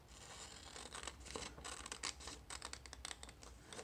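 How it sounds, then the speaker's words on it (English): Scissors snip through printed paper for a flip-and-envelope craft piece, a quick close run of crisp, papery cuts with soft rustling between them. "So I'm going to go ahead and cut this out."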